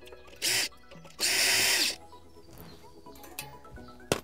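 A handheld drill fitted with a T25 bit undoes brake rotor bolts on a trials bike wheel, giving two short whirring bursts, the second longer, followed by quiet clicks and light handling noises.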